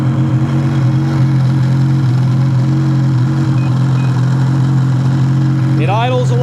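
Evinrude ETEC outboard engine idling smoothly after a spark plug change, a steady, close, low rumbling drone throughout, with a voice briefly heard near the end.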